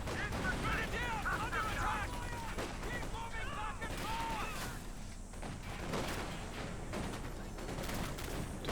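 Incendiary artillery fire in Company of Heroes 2 as a steady rumble of gunfire and distant shelling, with in-game voice chatter and small chirping calls mixed in, continuous and fairly dense throughout.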